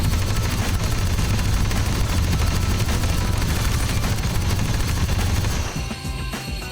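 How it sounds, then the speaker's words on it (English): A Z6 rotary blaster cannon in the Blade and Sorcery Star Wars mod fires a loud, dense, continuous stream of rapid blaster shots that roars steadily before cutting off abruptly near the end. "the Z6 rotary blaster cannon"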